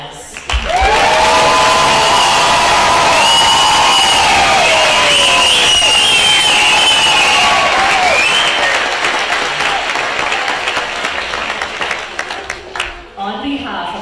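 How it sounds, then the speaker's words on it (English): A graduation audience applauds the departing graduates in a loud, sustained round of clapping, with cheers and whoops rising over the crowd before it slowly tapers off. "we invite you to celebrate them with one final round of applause"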